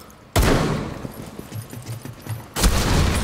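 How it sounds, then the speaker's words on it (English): Sustained gunfire in the video game Rainbow Six Siege, with loud rapid bursts that start abruptly and come back after a short pause, heavy and close, and no voices over them. "Stop fucking shooting at me"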